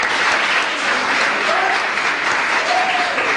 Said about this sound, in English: You guys deserve another round of applause.